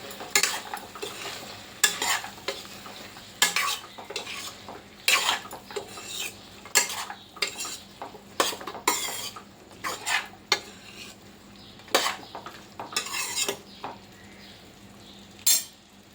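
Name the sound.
stirring chicken and broad beans curry in a pot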